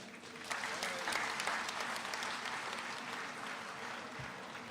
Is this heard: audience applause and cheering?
yes